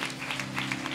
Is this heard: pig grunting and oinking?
no